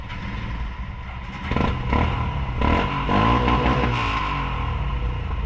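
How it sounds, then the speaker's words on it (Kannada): A motorcycle engine revs hard and labours while climbing a steep ramp on a rocky hill route, with clattering and scraping from the bike, loud and close throughout. "ಯಾವ ಸೂಪರ್ ಬೈಕ್ ಅವರು ಈ ತರ ರ್ಯಾಂಪ್ ಓಡಿಸಲ್ಲ ಸುಮ್ಮನೆ"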